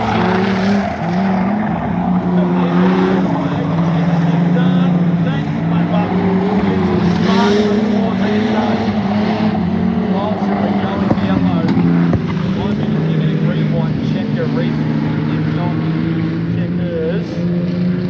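Standard saloon cars racing on a speedway track, a steady loud engine drone from the field under continuous race commentary over a public address.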